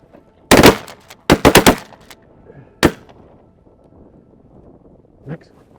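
Shotgun blasts ring out on a mallard duck hunt, a close burst of one shot followed by a rapid volley of several more, then a final lone shot, with faint outdoor background and a brief distant call afterward.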